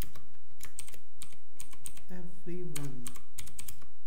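Steady rapid clicks of typing on a computer keyboard while writing HTML code, close and continuous, with someone briefly speaking partway through.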